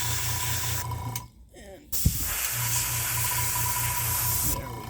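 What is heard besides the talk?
airbrush spraying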